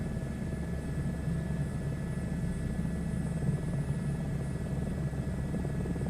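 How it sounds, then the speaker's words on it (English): Steady, even rotor and turbine drone inside a helicopter cabin in Microsoft Flight Simulator 2024, a low constant hum holding at one level throughout with no voices. "So quiet in the inside the helicopter."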